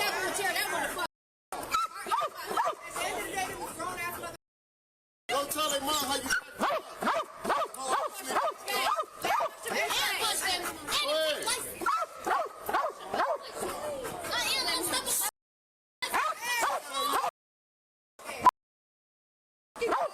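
A police dog barks and yips amid a tense arrest scene, with shouting officers and chatter mixed over the repeated barks, the sound cut up by several brief silent gaps.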